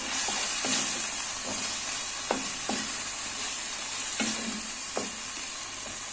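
Lauki halwa with roasted dry fruits stirred in a pan, a continuous sizzling hiss broken by repeated spoon scrapes and taps against the pan at an uneven pace.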